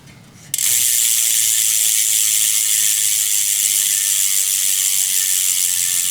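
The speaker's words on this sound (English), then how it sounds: "I can't talk about these wheels without giving you a demo of what the Freehub sounds like" Freehub of an AliExpress carbon bicycle wheel ratcheting loudly and steadily alone, a continuous fast buzzing clicks that begins abruptly after a brief quiet moment and holds at constant intensity.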